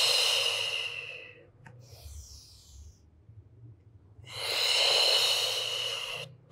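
Long, audible breaths during a Pilates spine mobility exercise, a drawn-out breathy exhale at the start and another strong one later, separated by quiet, close to the microphone.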